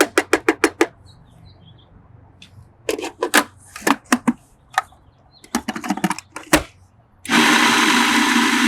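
A food processor pulses falafel mixture in quick, short bursts, first a rapid run of clustered pulses, then scattered ones, before settling into a loud continuous whir at the end, close by and without talk.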